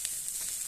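Onions sizzle steadily in hot oil in a pan, being fried as a topping for biryani rice; a close, continuous bright crackle with no talking.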